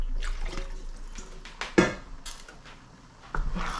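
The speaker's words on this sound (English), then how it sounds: "I'll add a little bit of water, enough water that I know will cook my rice" Water is poured into a cooking pot for rice in a home kitchen, with a few short splashes and trickles, a knock of the pot, and quiet pauses between.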